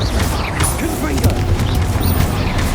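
Confringo fire spell blasts in Hogwarts Legacy, a dense, loud burst of booming, crackling impacts layered with game effects and continuous throughout.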